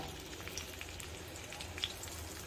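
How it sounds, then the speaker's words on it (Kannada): Finely chopped onion fries in hot oil, giving a soft, continuous crackling sizzle with scattered tiny pops, faint and steady throughout with no voices. "ಈಗ ಒಂದು ಚಿಕ್ಕ ಮೀಡಿಯಂ ಸೈಜ್ ಈರುಳ್ಳಿನ ಸಣ್ಣ ಸಣ್ಣದಾಗಿ ಕಟ್ ಮಾಡಿ ಈ ಎಣ್ಣೆಗೆ ಹಾಕ್ಕೊಳ್ತಾ ಇದ್ದೀನಿ"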